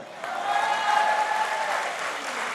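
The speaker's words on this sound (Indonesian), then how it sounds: "Aplaus dulu, beri dulu dong." An audience at a Golkar party gathering claps in a sustained burst of broadband applause, rising quickly and holding steady before easing slightly, with some voices mixed in among the crowd.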